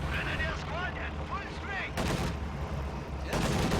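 A Stuka close air support attack in a tank battle video game: descending whining sweeps followed by two heavy, loud blasts of explosive gunfire.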